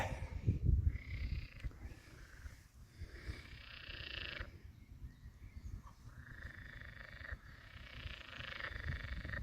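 Frogs croak in repeated raspy bursts, fairly faint and outdoors, overlapping in an irregular chorus with no voices.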